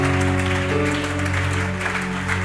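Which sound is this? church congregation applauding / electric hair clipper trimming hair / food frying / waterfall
church congregation applauding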